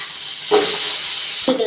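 Mustard seeds hit hot oil in a pan for a dried fish curry and sizzle with a steady bright hiss, with sharper crackling bursts as more go in, close and loud.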